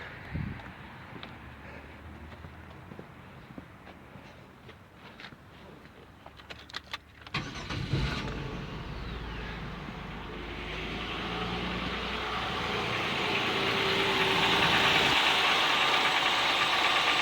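A GM 3.4L V6 minivan engine turns over after a fuel pump replacement and catches, then settles into a steady idle that grows louder and rougher over the following seconds, with no voices.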